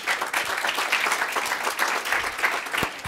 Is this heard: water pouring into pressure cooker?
no